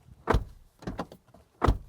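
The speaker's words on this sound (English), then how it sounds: "That's what our door slam sounds like." Three heavy door slams on a 2025 Toyota LandCruiser Prado, each a sharp low thud with a brief decay, spaced about half a second to a second apart, close and loud with no talk.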